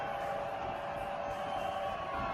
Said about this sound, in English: Crowd in full throat here on 3rd and 5.